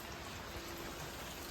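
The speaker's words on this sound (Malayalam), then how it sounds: "മഴ." Steady rain falls around a home garden, a soft even hiss of drops on surfaces throughout, faint and continuous with no voices.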